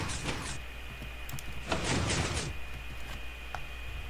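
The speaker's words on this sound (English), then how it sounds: "It's a fast 3x3 shutter door" A fast 3x3 Minecraft redstone shutter door opens and shuts in two quick mechanical bursts of piston-like sliding noise, the second louder and longer, over a constant faint background hum.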